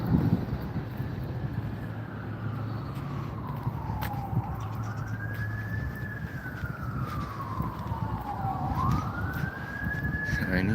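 A fire truck siren wails up and down in long, slow sweeps through a small Ozarks town, loud and steady over a low traffic rumble as it draws closer.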